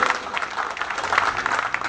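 Loud audience applause at a school fair and drama event, a dense burst of many hands clapping together, close and continuous for a couple of seconds.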